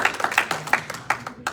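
A church congregation claps in a short, uneven burst, several quick distinct claps at moderate distance and fairly faint.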